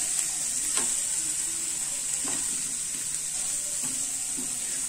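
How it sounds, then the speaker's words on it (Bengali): Butter garlic mushrooms with mixed red, yellow and green bell peppers sizzle steadily in a pan, with a few scrapes and stirs of a utensil breaking through the constant frying hiss. "আমরা এবার এটা পুরোটা সতে করতে থাকব।"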